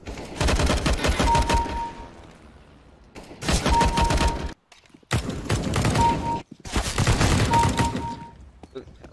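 Automatic rifle fire in CS:GO, four loud, close bursts of rapid shots separated by short silences.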